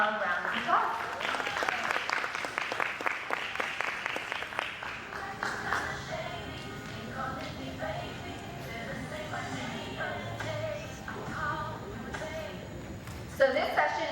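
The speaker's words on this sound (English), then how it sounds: "So let's give Mr. Kevin Shelton a round of applause." Applause from an audience at a real estate development business session, steady clapping starting loud and thinning out over about fourteen seconds, with talk over and after it.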